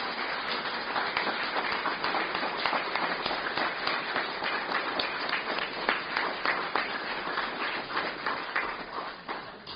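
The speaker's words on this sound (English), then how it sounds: "Maybe we can get a round of applause." An audience at a Legion of Honor presentation for WWII veterans gives sustained applause, many hands clapping in a dense, even roar that lasts throughout.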